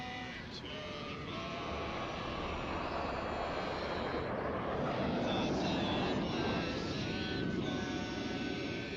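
Fighter jet engines roaring in the video game Ace Combat 5, a dense, sustained airplane rush that swells slightly midway, with voices talking over the engine noise throughout.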